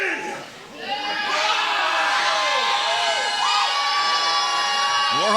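Wrestling event crowd at an EPW show, shouting, cheering and whooping at a wrestler as he taunts them, a continuous loud roar of many voices with children's shouts rising above it.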